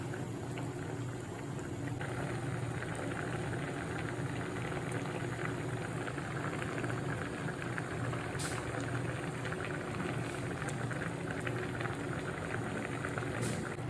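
Dry prawn and raw mango curry simmering in a pot gives a steady, even bubbling hiss that carries on without a break, close by and moderately loud, with no talking.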